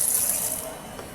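Water pours out to water chili plants, a short steady splashing trickle heard close by.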